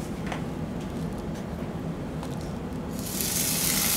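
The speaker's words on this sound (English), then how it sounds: "The sizzle of the mushrooms." Mushrooms sizzle on a barbecue grill, a steady close hiss and crackle throughout that swells louder and brighter in the last second.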